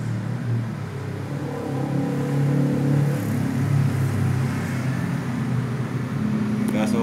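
An oxyhydrogen therapy device, the Joko Energy H-304A, runs with a steady close whirring hum and low rumble that holds level throughout.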